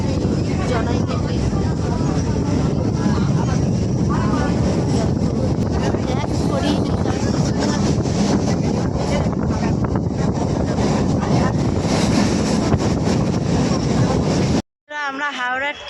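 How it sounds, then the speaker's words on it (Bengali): From inside a moving local train from Janai toward Dakshineswar, a loud, continuous rumble and rush of wind fills the carriage, then cuts off abruptly near the end. "এবারে ট্রেনটা রানিং হয়ে গেছে।"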